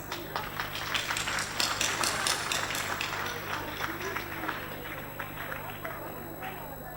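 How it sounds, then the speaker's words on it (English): An audience at an awards ceremony applauds, a steady dense patter of many hands clapping for several seconds and tapering slightly toward the end. "So give yourselves an applause"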